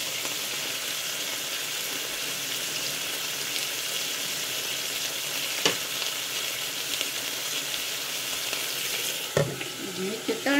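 Steak pan-frying in butter, a loud, continuous close-up sizzle with occasional clicks and a brief scrape of stirring near the end.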